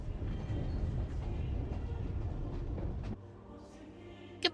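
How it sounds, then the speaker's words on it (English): A Fatui train in the video game Genshin Impact rumbles past, a low, steady rolling sound for about three seconds that cuts off abruptly to near quiet, followed by a short sharp sound at the end. "It's a Fatui train!"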